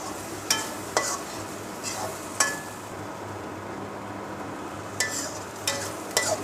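Bottle gourd seeds fry in a pan with a steady low sizzle while a spatula stirs them, scraping the pan in distinct sharp strokes every second or so.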